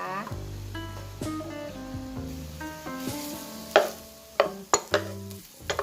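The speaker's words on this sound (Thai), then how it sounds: "ผัดให้หอมใหญ่หอมนะคะ แล้วก็นิ่มค่ะ" Sliced onion stir-fries in a little oil in a pan, a soft sizzle broken by several sharp spatula clacks near the end, with tuneful background music playing throughout.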